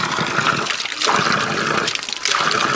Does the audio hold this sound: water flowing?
yes